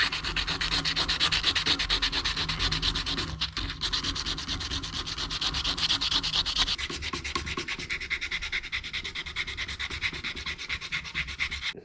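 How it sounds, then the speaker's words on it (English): Steady, close rubbing of 120 grit sandpaper scraps worked back and forth over a Honda Monkey bike rear shock, a continuous rasping scrub with a brief pause and a slight change in tone partway through. "I'm going to start with scraps that I have of 120 grit and just sand the crap out of it"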